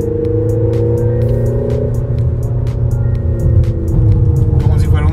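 Peugeot 3008 plays a simulated sporty engine note, a steady low drone that swells slightly, heard inside the cabin beneath continuous talking.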